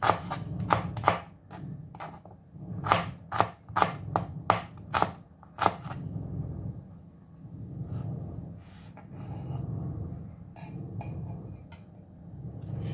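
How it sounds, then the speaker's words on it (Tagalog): A knife chops an onion into julienne strips on a board for Ilocano dinengdeng, giving a quick run of sharp, close cuts in the first half, then only a low background hum. "Unahin natin yung sibuyas. Cut lang natin siya into julienne."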